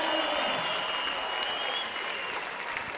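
Applause from a crowd in a judo arena after a match win at the European Judo Open in Prague, steady and dense for the full three seconds, with no break in the clapping.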